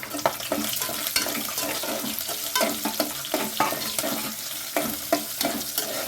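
Onions frying in a pan of vegetable sambar, a bright continuous sizzle with repeated stirring scrapes and spatula taps, close by with no voices.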